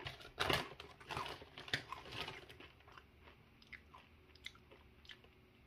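Doritos Blazin Buffalo and Ranch tortilla chips crunched up close, with sharp bites and chewing loud at first, then softer and sparser as the chewing winds down.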